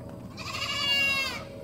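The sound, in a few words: goats bleating at food time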